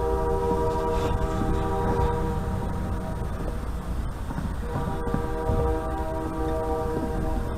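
A nearby train sounds its horn in a long, loud, sustained multi-tone blast over the heavy rumble of rolling railcars, with a brief dip midway before the horn resumes.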